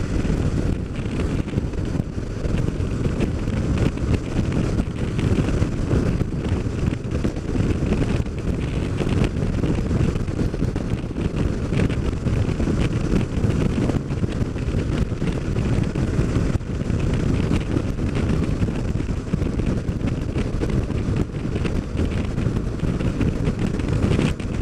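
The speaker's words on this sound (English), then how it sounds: "little windy" Wind buffets the microphone during a ride, giving a loud, steady roar and rumble that lasts throughout with no talk.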